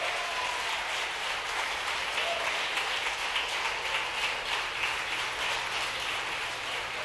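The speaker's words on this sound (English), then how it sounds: "the folks who watched the mission cheering" A crowd cheers and applauds during a SpaceX Falcon Heavy mission as the Arabsat 6A spacecraft separates, a steady, dense wash of clapping and cheering that holds at an even level throughout, with no clear talk on top.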